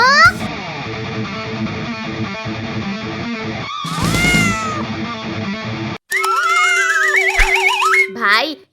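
Cat meowing in a home amid chaotic comedy sounds, with repeated cries under voices and effects, then sharper, warbling meows near the end.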